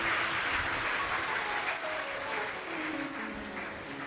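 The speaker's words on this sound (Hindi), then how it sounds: "एक बार जोरदार ताली बजाएं इनके लिए" Loud applause from a large audience at a Shiv Mahapuran religious discourse, a dense, sustained roar of clapping lasting several seconds with no pauses.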